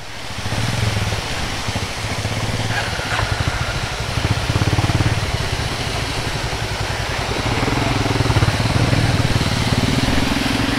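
A Honda CB350 motorcycle engine labours steadily up a steep road in second gear near Manang, Nepal, a continuous close drone with wind rush over it and no talk.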